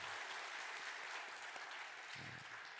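Congregation applause in a church during a Sunday service, a continuous, fairly distant wash of many hands clapping that holds steadily throughout, with a brief low voice under it near the end.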